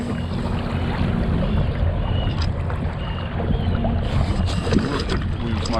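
A homemade electric-motor boat runs at half power while turning on open water, with a steady low hum and water and wind noise spread over the whole span.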